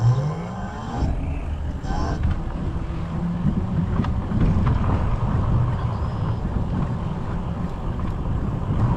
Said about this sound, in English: We're gonna have to wait for some cars.